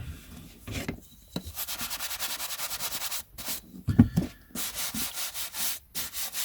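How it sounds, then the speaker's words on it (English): A shoe brush sweeps across stacks of vintage paper items in quick, rhythmic rasping strokes, close and fairly loud, with brief pauses between runs of brushing. "So, got my trusty shoe brush here."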